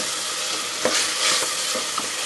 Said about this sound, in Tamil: இஞ்சி பூண்டு நல்லா பச்சை வாசம் போகிற வரைக்கும் நல்லா வதங்கிக்கோங்க.